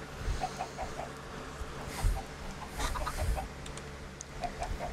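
Chickens clucking in the video game Minecraft, soft repeated clucks scattered across several seconds at moderate distance, with no talking.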